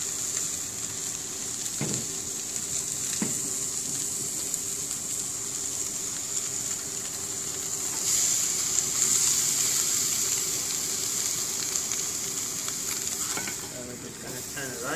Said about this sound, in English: Let it sizzle on both sides for about 10 minutes on each side.